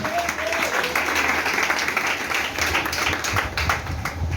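A church congregation applauds with steady, dense clapping that is close and continuous throughout, with a few voices faintly underneath.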